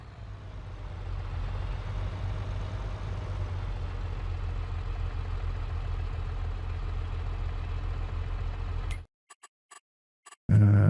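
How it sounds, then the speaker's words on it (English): A heavy tractor engine in a farm simulator game idles with a steady low rumble for several seconds, then cuts off abruptly, leaving brief clicks and a short burst of noise. "Love the sound of this tractor as well."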